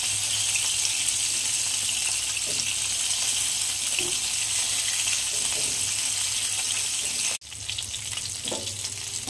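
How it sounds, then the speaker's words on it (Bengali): Koi fish fry in oil in a pan for tel koi curry, making a dense, steady sizzle with faint clinks of the pan, cut by a short break near the end. "এক পিঠ ভাজা হয়ে গেছে, আমি উল্টো পিঠটা ভেজে নিচ্ছি।"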